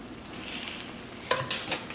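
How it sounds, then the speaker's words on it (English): Vegan grilled cheese frying covered on low heat, a soft steady sizzle with a few light clinks of utensil or pan near the end, close and quiet. "the trick to vegan grilled cheese is that it needs to be cooked on low heat, about 5 minutes on each side"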